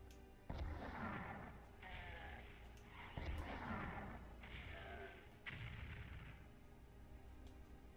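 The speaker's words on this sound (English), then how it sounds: "let me take the opportunity to show you what the rocket launcher can do." Rocket launcher in the video game Doom on PS1, SNES and 32X, firing and exploding in a run of about five heavy, booming blasts, each rolling into the next.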